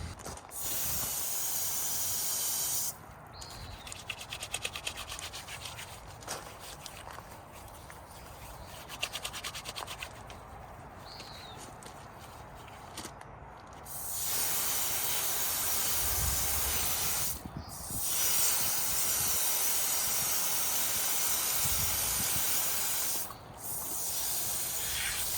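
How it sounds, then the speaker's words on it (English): Water runs from a tap over hands being rinsed clean of oil, a steady broadband hiss that drops away in brief pauses and returns at full strength, with rubbing textures mixed in. "go do a quick rinse on that, and that'll clean off my hands"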